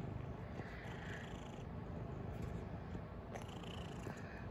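A cat purrs up close in a low, continuous rumble, soft and steady throughout with faint rustling above it.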